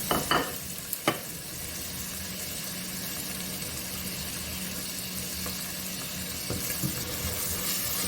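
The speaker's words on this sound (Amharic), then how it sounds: "ያንን ትንሽ ጠበስ እናደርጋለን።" Carrots and vegetables frying in a pan for a whole-lentil stew, a steady sizzle with a few sharp scrapes and clinks of stirring near the start and end, close and fairly loud, no talking.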